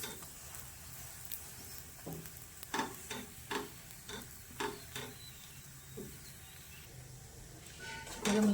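A stuffed cauliflower paratha being fried in a pan, with a steady soft sizzle and a series of short, sharp taps and presses over it, moderately near with no talk.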